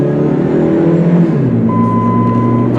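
A silver 2005 Dodge Neon SXT with a 2-liter engine accelerates, its steady engine drone rising smoothly in pitch from inside the cabin, with a thin electronic tone chiming in partway through.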